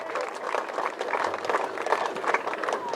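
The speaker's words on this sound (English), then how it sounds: "Round of applause for your parents" Applause at an under-15 junior football grand final presentation, a scattered outdoor crowd clapping steadily with dense overlapping hand claps, moderately loud, some voices mixed in.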